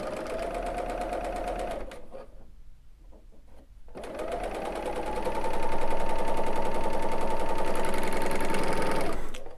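A Bernina L850 serger stitches quilt pieces, its motor running in a steady rapid buzz that stops for about two seconds, then resumes louder and continues to the end.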